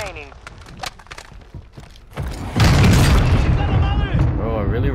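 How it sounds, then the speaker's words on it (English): A claymore mine blast in a first-person shooter game: a loud, deep boom lands midway and leaves a sustained roar and rumble, with players talking over the gameplay before and after. "Bro, I really ran into a claymore?"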